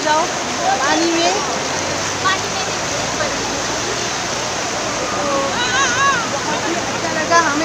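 Daregon waterfall in Assam, a steady broad wash of rushing water that stays loud and even throughout, with voices speaking faintly beneath it.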